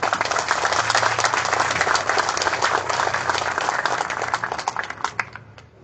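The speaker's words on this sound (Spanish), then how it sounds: "a quien les pido por favor le demos un fuerte aplauso" An audience applauds in welcome for the president of Lambayeque's Chamber of Commerce and Production, sustained dense clapping filling the room for several seconds before thinning out.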